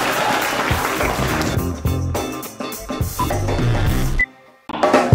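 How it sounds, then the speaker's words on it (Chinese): Audience applause at a stand-up comedy show, a dense steady clatter of clapping that runs for about four seconds, cuts out briefly, then swells again. "掌声鼓励一下"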